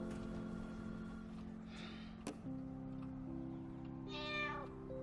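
Violet the cat lets out a couple of clear, mid-distance meows over a steady low hum of a quiet room, the second call rising higher and brighter near the end.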